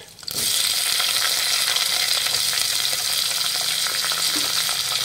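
Chopped tomato and finely cut green chilies drop into hot oil in a pan and burst into a loud, steady sizzle that holds evenly to the end, with faint stirring clicks underneath.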